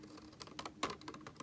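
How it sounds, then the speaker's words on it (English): Scissors snip through thin acrylic strips in a quiet craft setting, giving faint, quick clicking cuts at an uneven rhythm. "I am going to use the bottom part of this acrylic and my scissors"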